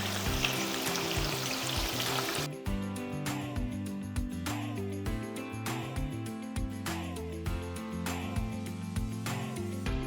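Pakora fritters frying in hot oil, a steady dense sizzle and crackle running throughout with a brief louder splash near the start, close and continuous with no talking.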